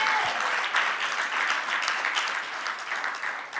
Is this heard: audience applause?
yes